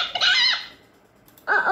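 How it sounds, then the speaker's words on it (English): Cartoon chicken clucking in a 2001 Playhouse Disney farm video game, two short bursts of bright squawky clucks separated by a quiet gap, loud and close. "chicken."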